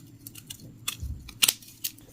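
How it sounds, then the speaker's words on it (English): Long scissors snip through craft garland at a fly-tying bench, giving a few quiet, separate cuts close up with brief crisp clicks. "And we're just going to take our long, junky scissors."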